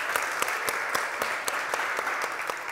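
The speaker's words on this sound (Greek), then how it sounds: "Ένα χειροκρότημα για τον Νίκο" Theatre audience applauding after a performance, dense steady clapping from many hands filling the room, continuous and fairly loud with no voices over it.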